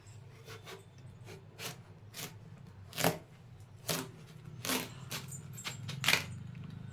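Knife cutting through the center of a watermelon, a series of soft crunching slices and taps at uneven intervals, quiet and close with no talking.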